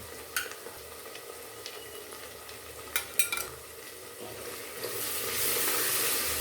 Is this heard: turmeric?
yes